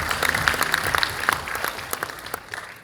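An audience at a corporate data and AI forum opening event gives a steady round of applause. It is a moderately sized crowd clapping continuously for a few seconds, with no voices over it.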